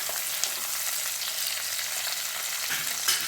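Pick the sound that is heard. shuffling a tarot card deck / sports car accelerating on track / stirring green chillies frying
stirring green chillies frying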